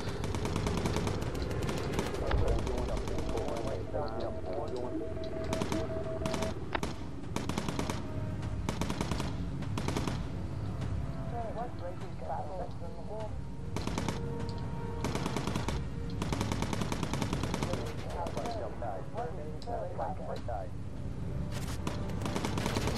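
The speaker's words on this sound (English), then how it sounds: "We need to get away from all this flak." Flak anti-aircraft fire in the Bomber Crew video game: dense, continuous bursts of rapid gunfire and explosions crackle steadily for the whole stretch, loud and close, with a few heavier thumps mixed in.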